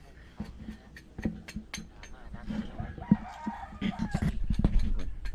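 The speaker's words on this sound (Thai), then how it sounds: "เสียงไก่ขัน" A rooster crows amid clucking chickens and other farmyard noises, with scattered knocks and rustling close by.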